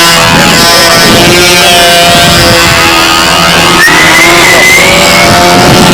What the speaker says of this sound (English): I love the motor run on this